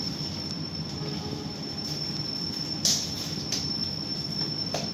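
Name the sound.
Cakrabuana train arriving at Cikampek station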